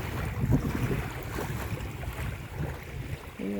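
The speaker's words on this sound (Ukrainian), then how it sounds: "Хвилі такі сьогодні прикольні." Sea waves washing in with wind buffeting the microphone, a continuous rough wash of surf without talk.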